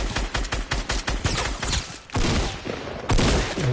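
Rapid bursts of gunfire from a Fortnite match, a fast rhythmic volley of shots up front, then a brief lull and heavier, louder blasts, all loud and close with no talking.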